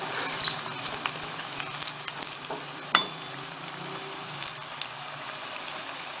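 Potato rings deep-frying in oil over a low flame, giving a steady, gentle sizzle and patter with one brief clink, close and even throughout.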